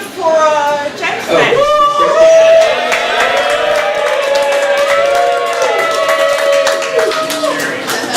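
An audience at a startup night event cheers, whoops and claps for a pitched app, with sustained voices and hand claps close by and a brief spoken phrase at the start.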